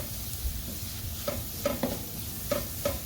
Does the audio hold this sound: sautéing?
yes